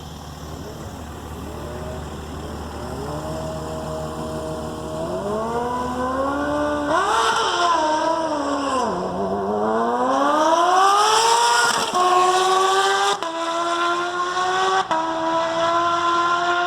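A Kawasaki H2 and a turbo GSX-R 750 motorcycle launch side by side in a drag race. Loud engines rise in pitch through several quick gear changes, the roar swelling up close, then shifting and receding down the track.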